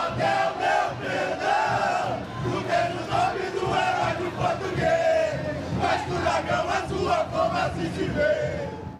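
Vasco fans at São Januário cheer and chant loudly after a win, a dense crowd roar with rhythmic shouting surges and clapping that continues without a break.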